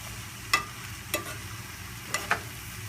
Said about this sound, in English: You want to saute this in medium heat.